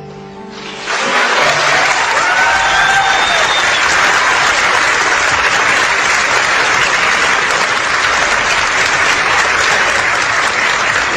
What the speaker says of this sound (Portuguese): Eu sei que é fácil para vocês baterem palmas